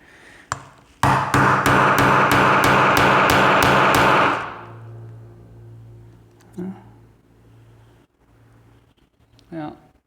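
A hammer strikes a steel punch driven into an American A30 padlock: about ten sharp, evenly spaced metallic blows in a fast run, loud and close. They stop abruptly and a faint hum follows, with a couple of small knocks later.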